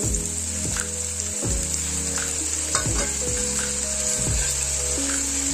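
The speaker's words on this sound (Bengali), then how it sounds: "গরম হয়ে গেছে, এবার আমি আলুগুলো ভেজে নেব।" Potatoes fry in hot oil in a wok, a dense constant sizzle close up with a high hiss, while low repeated tones sweep through underneath; no one speaks.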